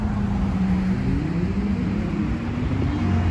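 Steady traffic rumble of cars driving past at night in Miami, a continuous close engine and tire drone with no pauses.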